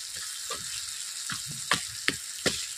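Rohu fish heads fry in a spice masala in a pan, with a low sizzle broken by several sharp stirring knocks and scrapes in an uneven rhythm, heard close.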